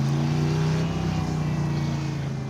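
A loud race car engine drones at high RPM on a desert kart track, a steady, buzzing roar that holds nearly constant pitch throughout, close and dominant.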